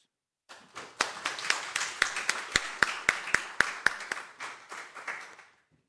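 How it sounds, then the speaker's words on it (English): Sparse applause from a conference audience welcoming guest speakers, including a hospice director from Vilnius: a few people clapping, individual claps distinct and fairly near, fading out after several seconds. "Please welcome all our guest speakers with a round of applause"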